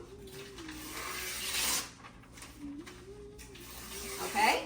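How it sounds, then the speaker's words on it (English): Strips of newspaper are ripped by hand for a craft project, with a few short, raspy tearing bursts near the mic while a voice talks briefly. "We're going to rip pieces of newspaper, actually strips of newspaper, like this."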